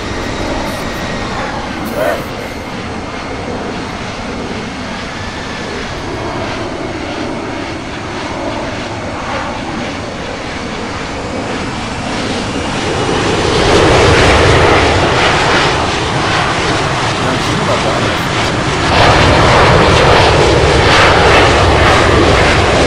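Airliner engines hum and roar steadily in the Infinite Flight game, a broad continuous drone that swells louder partway through as thrust builds, with a faint voice now and then beneath it.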